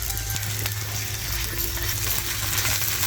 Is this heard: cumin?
yes